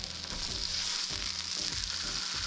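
Mashed potato pancakes frying on a covered griddle, a steady close hiss and crackle of sizzling oil throughout, alone with no talking.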